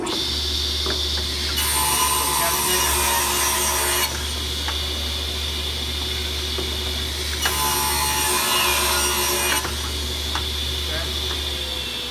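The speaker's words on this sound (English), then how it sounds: "When we use the table saw, we rip, which is going with the grain." A table saw rips a wooden board along the grain, its motor humming steadily up close while the blade passes through the wood in two long, loud cutting stretches.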